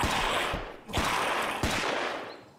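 Rapid bursts of automatic gunfire in the video game The Seekers, three loud clusters of shots, each starting sharply and tailing off into a noisy decay, with no talk over them.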